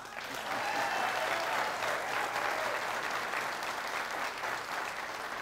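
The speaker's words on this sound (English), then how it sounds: "I don't want to interrupt your applause." An audience at a high school quiz bowl finale applauds the champions, sustained even clapping from a hall crowd, moderately loud and without speech.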